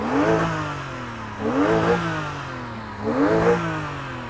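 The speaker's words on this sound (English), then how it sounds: "this is what a flat 6 naturally aspirated engine sounds like." A Porsche Boxster's naturally aspirated flat-six engine revs three times in a steady rhythm, each rev climbing and falling back, heard up close with no talk.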